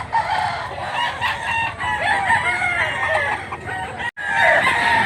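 A gamefowl rooster in Mantalungon, Cebu crows loudly and close in long, wavering calls, with clucking and steady background noise and a brief cut near the end.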